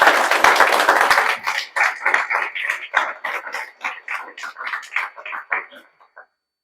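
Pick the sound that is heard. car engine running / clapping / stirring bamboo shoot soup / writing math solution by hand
clapping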